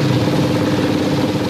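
A motorcycle engine runs steadily through a drama scene, a continuous low-to-mid rumble close by with no talk over it.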